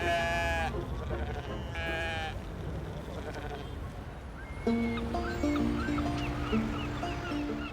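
A crowd of sheep bleats across old London Bridge, with repeated loud, wavering cries sounding close, over a busy background and joined by other calls toward the end.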